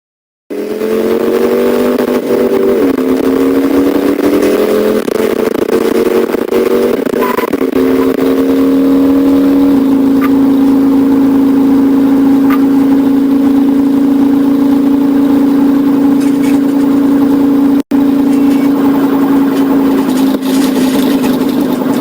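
Car engine droning steadily at high revs while chasing a motorcycle, a loud, sustained close-up hum that shifts pitch slightly and holds nearly constant, with a single brief dropout.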